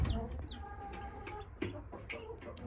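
A hen in a nesting box gives soft, low clucks close by in a farmyard setting, with a voice speaking over them.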